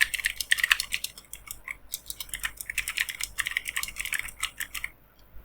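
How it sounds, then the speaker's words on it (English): Rapid typing on a computer keyboard as a prompt is entered, a close stream of light clicking keystrokes that slows and stops near the end. "And in the prompt, you're going to type"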